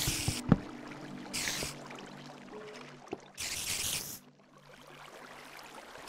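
Bursts of flowing water in the Minecraft video game come and go in short rushes, moderately loud, with small clicks and thumps of gameplay between them.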